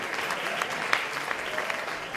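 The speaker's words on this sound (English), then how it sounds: "Huge round of applause again for our keynotes and all our great speakers today." Conference audience applauding keynote speakers and presenters, a steady wash of many hands clapping throughout, fairly faint and distant, with no talk over it.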